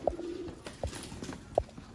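Sialkoti breeder pigeons in a loft give three short, evenly spaced coos, fairly near and quiet, over light background shuffling with no talk.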